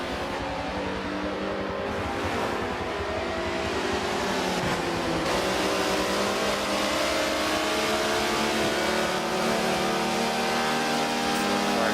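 Several GT race cars in a racing game brake nose to tail into a corner and then accelerate hard, their engines roaring loud and continuous with shifting harmonic pitch sweeps and steady broadband noise throughout.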